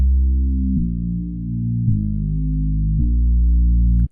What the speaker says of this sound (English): So it's more like a realistic bass guitar instead of a punchy 808.